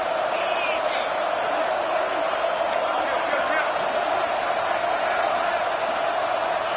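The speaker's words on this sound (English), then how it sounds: "Home crowd trying to make a difference on 4th down." Home crowd at a Terps football game roaring through a 4th-down play, a loud, steady, unbroken wall of noise that holds level for the whole stretch.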